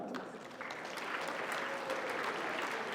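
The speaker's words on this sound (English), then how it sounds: "Congratulations, and again, please applaud" Audience applause at a North South Foundation finals award ceremony: steady, dense clapping from a large crowd fills the room and grows slightly fuller as it continues, with no voices over it.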